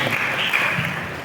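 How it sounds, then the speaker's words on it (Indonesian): Audience applause for a teacher from a state senior high school at a teachers' training session, a steady dense clatter of many hands held evenly for about a second with no voices over it. "tepuk tangan untuk Bu Yuni dari SMA Negeri Galuh"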